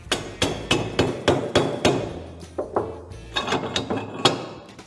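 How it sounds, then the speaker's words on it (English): Sharp, repeated hammer blows strike the metal piston of a hand briquette press packed with charcoal and binder, at a steady rhythm, about a dozen impacts, each ringing briefly with a faint clatter. "Hammer down the piston."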